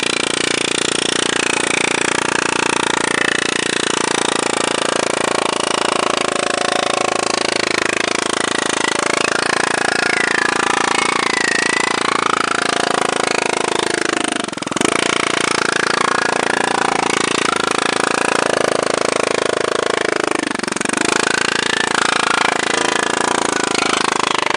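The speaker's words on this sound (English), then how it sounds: "We've got the planishing hammer set up." An air-powered planishing hammer works sheet metal, making a loud, continuous rapid hammering drone that runs the whole time with two brief dips.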